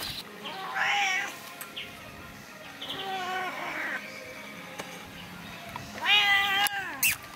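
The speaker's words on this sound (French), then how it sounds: "C'est le premier chat que je vois de toute l'Australie." A cat in Australia meows several times at close range, with drawn-out, wavering calls near the start, middle and end over low background noise and no speech.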